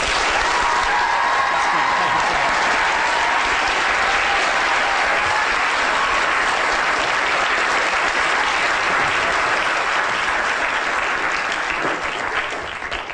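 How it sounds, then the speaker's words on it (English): A lecture audience gives sustained, loud applause after a brain science talk, dense and even clapping throughout before tapering slightly at the end. "Would everyone give Vince a round of applause?"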